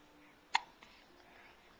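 A sleeping baby lets out one sharp, close hiccup, followed a moment later by a fainter second hiccup, in an otherwise quiet room.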